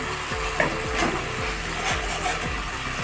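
Spice paste with green chili paste and onion paste being fried in a little water in a pan for a Bengali prawn and pumpkin dish, a steady soft sizzle with faint scraping stirs.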